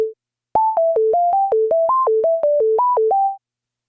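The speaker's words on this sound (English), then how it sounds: "So we just have a sine wave." A plain sine wave synth patch in the Filterverse plugin plays a quick stepped melody of short, pure, evenly spaced notes, clean and isolated, after one brief opening tone.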